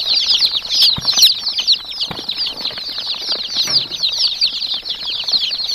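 Gavran and Kadaknath chicken chicks on a poultry farm cheep constantly in a dense, high-pitched chorus, with occasional soft knocks and rustles close by.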